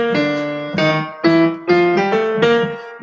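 Piano plays the classic jazz ending, a chord progression struck as a series of rich, ringing chords in a steady rhythm with a moving inner line, heard alone and close.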